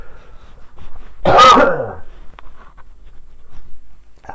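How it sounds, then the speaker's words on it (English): A single loud, harsh cough bursts out near the microphone, followed by quiet room noise and faint small sounds. "And I'm going to cough."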